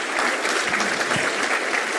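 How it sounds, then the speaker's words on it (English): A conference audience claps steadily and fairly loudly for a couple of seconds after a talk, a dense wash of applause with no voices on top. "Let's give a warm round of applause."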